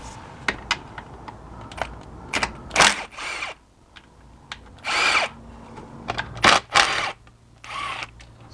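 Cordless power tool spinning out the last few transmission pan bolts on a BMW E46 automatic gearbox, in several short bursts of whirring with ratcheting clicks and tapping between them, fairly close and clear, with no talk.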